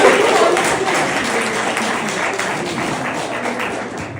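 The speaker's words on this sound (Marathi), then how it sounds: "परत एकदा या कार्यक्रमाची आयोजिका हिच्यासाठी जोरदार टाळ्या होतील." Audience applause for the organiser of a Marathi poetry-reading gathering: steady, dense clapping from a room of people, loud at the start and thinning slightly over about four seconds.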